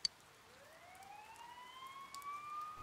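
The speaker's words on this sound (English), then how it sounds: "You hear sirens nearby." Police sirens wail in the distance in the video game Persona 4 Golden, a faint rising and falling tone that climbs slowly over a soft, rain-like hiss.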